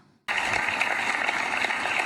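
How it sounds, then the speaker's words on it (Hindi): Audience applause welcoming a poet at a Jaisalmer online kavi sammelan for Maharana Pratap Jayanti, starting abruptly after a brief silence as a steady, dense clatter of clapping hands that holds evenly to the end. "जोरदार तालियों के साथ स्वागत करते हैं हम सैनीदान जी चारण का"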